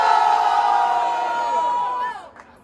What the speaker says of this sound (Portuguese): Barulho que gostou das rimas de Japa!